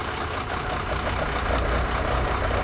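A Class B truck eases out of a parking space during CDL skills practice, its diesel engine giving a steady, continuous low rumble throughout, without noticeable revving or braking sounds.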